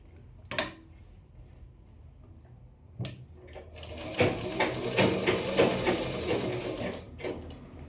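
After a few isolated clicks and knocks, a sewing machine starts up and stitches along a strip on a kaftan, running in a steady, close mechanical chatter for the last few seconds.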